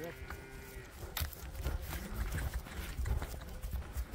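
A bay horse's hooves clip-clop in an uneven series of close, sharp knocks, with farmyard noise and faint voices in the background.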